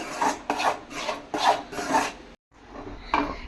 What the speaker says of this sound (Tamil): இப்போ பால் தேவையான அளவு நம்ம ஊற்றிட்டு கட்டி முட்டி இல்லாமல் கலந்து விட்டுக்கலாம்.